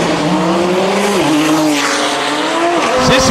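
A Porsche and an Audi RS3 race side by side at a drag racing event, loud sustained engine roar with shifting pitch and tire noise, close and continuous throughout.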